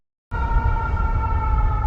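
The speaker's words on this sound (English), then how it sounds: "I'm hearing sirens" A steady siren tone kicks in suddenly after a brief silence, holding loud and even over a low rumble, sounding like an emergency vehicle or civil warning siren nearby.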